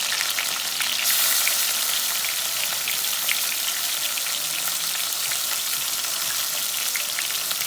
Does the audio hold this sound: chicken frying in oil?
yes